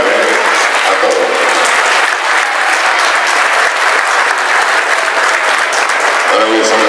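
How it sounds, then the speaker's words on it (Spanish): Steady, loud applause from a crowd fills the whole stretch, dense clapping with a few voices faintly mixed in. "El aplauso para ellos, muchas gracias"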